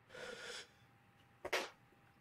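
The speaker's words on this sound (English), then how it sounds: "Oh, I need to sneeze." A single sneeze from a man seated in a flight simulator cockpit: a brief breathy intake, a pause, then one sharp close burst, faint and alone.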